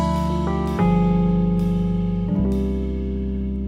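Sustained keyboard chords play an altered dominant voicing with a flat 9 in a 2-5-1 progression, the chord changing twice with new notes struck over the held harmony, steady and fairly loud with no talk.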